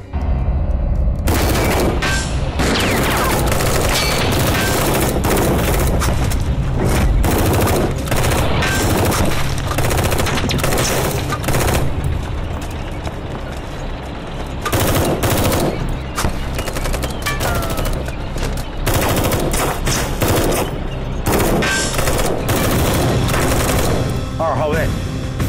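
Continuous gunfire and explosions from a military drama battle, with machine-gun bursts and booming blasts dense and loud throughout, as voices call out orders over the din.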